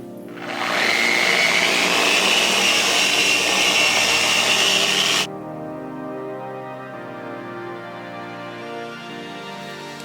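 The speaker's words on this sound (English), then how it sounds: "This side, we're going to do wool pad hyper polish." Rupes polisher with a wool pad hyper-polishing the paint of a Vans RV-14 aircraft, a loud close whirring drone that spins up, runs steadily for several seconds, then cuts off to quieter background.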